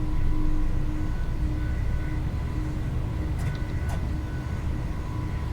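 Class 170 diesel multiple unit running along the Ely to Peterborough line in Train Sim 2021, a steady low rumble with faint high squeaks and clicks partway through, heard alone without talk.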